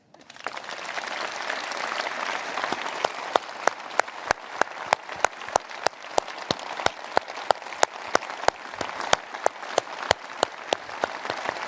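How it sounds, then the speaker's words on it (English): A large party conference audience applauds at length, a dense, steady roar of clapping that rises from silence and holds, punctuated by sharp, louder individual claps near the front. "Please applaud yourselves."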